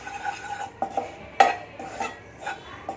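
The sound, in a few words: stirring gram flour roasting in pan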